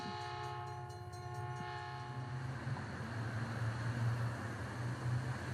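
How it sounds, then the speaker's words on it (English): A train rumbles past with a long, steady horn blast at the start, then a continuous roar of wheels on track. "Train."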